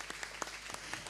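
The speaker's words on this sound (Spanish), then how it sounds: "Un aplauso para él." Audience applause at a cultural event, a faint, scattered patter of clapping hands with a few sharper nearby claps standing out, fairly distant and quiet.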